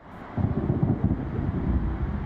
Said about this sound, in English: That's the sound of the thunder rumbling through Tacoma.